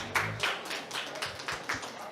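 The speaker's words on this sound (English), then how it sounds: "Round of applause." A small group gives a short round of applause at a climate decision workshop, a few loose claps and taps spread over a couple of seconds, fairly quiet and close.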